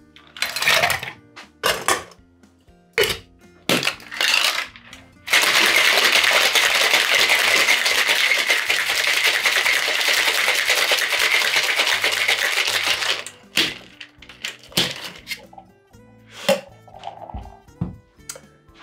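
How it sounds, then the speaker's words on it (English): A virgin margarita shaken hard in a cocktail shaker full of ice: about eight seconds of loud, dense, continuous rattling, with scattered clinks and knocks from handling before and after. "the last thing to do is go ahead and shake this cocktail"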